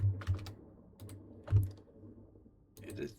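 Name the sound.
typing on a computer keyboard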